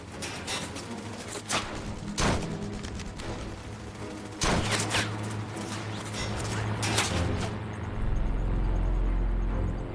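Enemy gunfire riddles a military vehicle in a World War II battle scene: sharp, loud bursts of shots crack out in clusters over a constant low rumble, with a heavier engine drone building toward the end.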